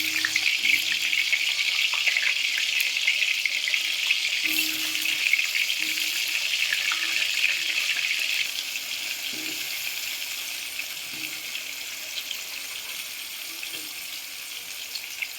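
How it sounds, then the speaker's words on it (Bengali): Potatoes frying in mustard oil hiss with a dense, continuous sizzle that is loud at first, then eases and softens partway through, with small clinks of pieces being moved, close by and without speech. "তো এতে এখন ভাজা হবে আমার আলু"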